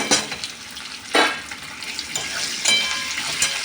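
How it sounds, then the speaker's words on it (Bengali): Chopped ginger and onion fry in hot oil, a close, steady sizzle with occasional scraping stirs of a spatula in the pan, with no talking. "একটু সামান্য পেঁয়াজটা তেলের মধ্যে নাড়বো, হালকা নরম।"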